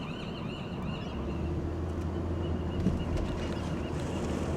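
Seagulls call near a bay park on Treasure Island and Yerba Buena Island, their cries faint and scattered over steady wind and low traffic rumble, with a distant boat hum.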